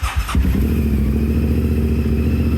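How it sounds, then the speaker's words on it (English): A motorbike engine starts after a brief crank, catching into a steady, close, loud idle with a low throbbing rumble that holds to the end. "so let's start the bike"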